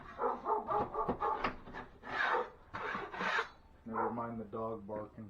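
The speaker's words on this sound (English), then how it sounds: "Never mind the dog barking, please." A dog barks in several short bursts nearby during sheetrock repair indoors, mixed with scraping sounds and a voice speaking over parts of it.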